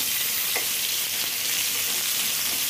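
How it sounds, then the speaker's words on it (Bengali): Rohu fish pieces fry in an old kadai, giving a steady, close sizzle with a brief scrape as they are turned, and no talk. "আমি মাছগুলোকে এখন উল্টে দিব।"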